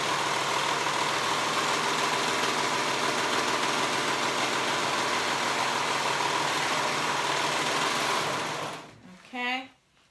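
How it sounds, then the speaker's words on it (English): A sewing machine runs steadily as it stitches around the edge of a kids' romper, a close, continuous rapid whir. It stops near the end, followed by a brief bit of voice. "The same thing, just sewing around that edge."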